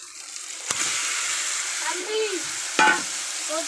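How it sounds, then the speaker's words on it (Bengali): Marinated chicken stirs and fries in a spice masala in a pan, giving a steady, close sizzle with a couple of sharp spoon-against-pan knocks and scrapes. "দেখো চিকেনটা হালকা করে একটু কষিয়েছি, তো এবার কিছুক্ষণ কষুক চিকেনটা।"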